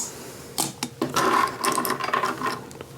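Small grinder whirring and crunching as it breaks up candy canes, starting with a few clicks and then a steady, close mechanical grinding with gritty rattles, no voices.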